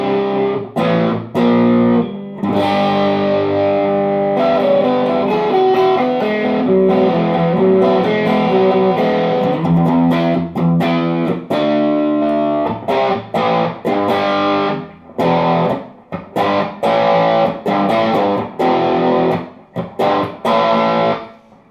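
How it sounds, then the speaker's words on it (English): Electric guitar played through an AC Booster Exotic pedal set for crunch distortion, loud and close, with strummed chords and single-note phrases separated by short stops and ringing decays. "And then I have AC booster exotic, using for some crunch distortion."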